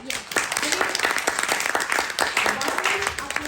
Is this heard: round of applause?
yes